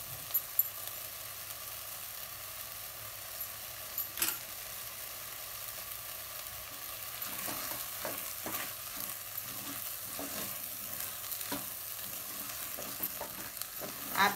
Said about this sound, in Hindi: अब मैं इसमें अदरक ऐसा पीसेस कर लेके डाली।